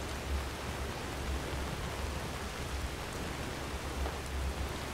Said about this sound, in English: And it's still pouring with rain, Farkas.